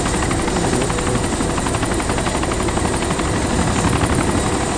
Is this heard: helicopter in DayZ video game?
yes